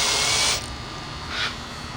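A power drill turns a 10-24 tap while assembling an explosion-proof security camera: a short, loud whirring burst, then a quieter second spin, with no talking.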